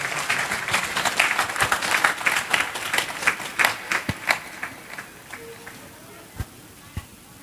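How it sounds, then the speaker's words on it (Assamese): Applause from the audience at an award ceremony in Sivasagar, Assam, honouring a doctor, a crowd clapping that is dense at first and then thins to scattered claps. "সকলোৰে পৰা এটা ডাঙৰ হাত চাপৰি মই আশা কৰিছোঁ"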